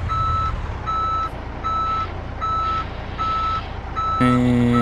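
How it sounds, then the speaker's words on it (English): A truck in Euro Truck Simulator 2 reverses while parking, sounding a steady series of loud electronic backup beeps, evenly spaced over engine rumble, ending in a louder tonal swell. "Let's park this massive American truck next to these European trucks."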